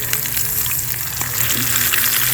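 Bluegill fish fries in oil, bubbling and crackling loudly and continuously at close range, with fine pops and spatters over a steady hiss.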